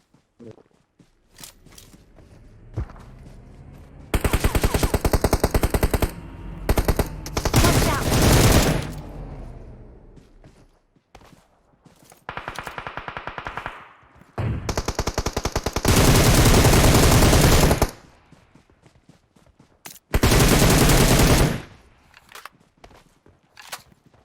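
Machine gun fire in a video game sounds in several long, loud sustained bursts separated by quieter gaps with scattered single shots and footsteps, close and harsh, the bursts lasting a few seconds each.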